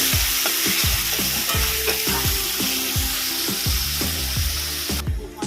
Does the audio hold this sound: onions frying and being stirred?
yes